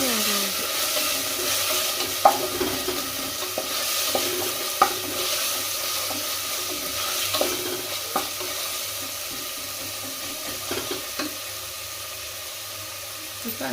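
Ginger garlic paste fries in a pan with a soft, steady sizzle, punctuated by repeated clicks and scrapes of a spoon stirring against the metal.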